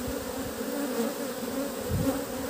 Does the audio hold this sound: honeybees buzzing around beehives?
yes